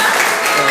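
Classroom audience clapping after a group presentation, a dense steady patter of hands filling the short moment without pause.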